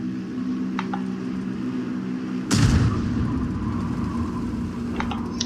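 In a tank video game, a single artillery shell impacts with a sudden loud crack and broad rumbling blast midway, preceded by a steady engine drone and faint clicks, the roar fading slowly afterward.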